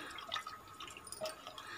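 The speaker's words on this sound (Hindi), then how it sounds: "चलिए अब इसमें हम डाल देंगे पानी" Water pours into a pot of yellow dal khichdi cooked with vegetables, making soft, faint splashing and dripping sounds that come alone with no talking.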